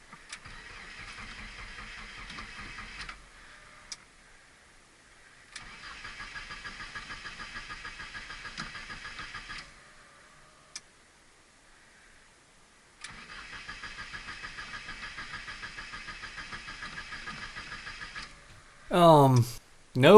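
A 2017 manual-transmission car engine cranks in three long bursts of a few seconds each, a steady rapid whirring churn separated by pauses, failing to catch; a brief voice follows at the end.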